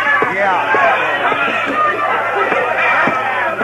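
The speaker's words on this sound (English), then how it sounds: "I entered the saloon from the rear and made my way into the crowd." Crowd in a Western saloon in a radio drama: loud overlapping chatter and murmuring voices fill the scene steadily, with people talking throughout.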